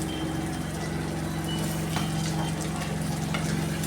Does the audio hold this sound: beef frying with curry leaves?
yes